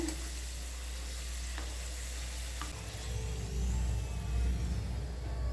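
Chicken pieces fry in a pan with a steady sizzle and occasional stirring scrapes, joined by a low rumble that swells in the second half.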